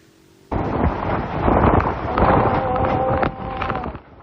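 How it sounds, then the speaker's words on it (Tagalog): Typhoon Opong's wind and rain battering the coast at Roxas, Oriental Mindoro, just before landfall: a loud, roaring, buffeting rush that begins abruptly and stays heavy, with gusty surges before dropping away at the end. "Ganito na ang hangin at ulang bumayo sa Roxas Oriental Mindoro ilang sandali bago ang landfall ng bagyong Opong sa probinsya."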